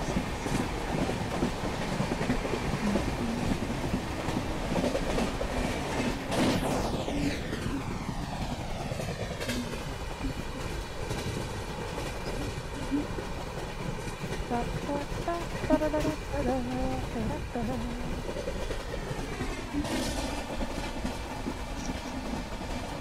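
A Howrah–Chennai Mail express train runs in Microsoft Train Simulator, its engine drone steady and continuous, with a rising and falling horn-like tone sweeping through midway and a quieter one near the end.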